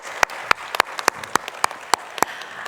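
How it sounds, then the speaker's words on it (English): Sparse, sharp handclaps from a small audience at a formal speech event, about ten distinct claps spaced irregularly over a faint background, fairly close and crisp. "So let's give a round of applause for Glen Ntuli."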